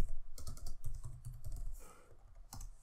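Rapid keystrokes on a computer keyboard while Python code is entered in Sublime Text 3, a steady close patter of clicks with brief pauses and a busier burst near the end.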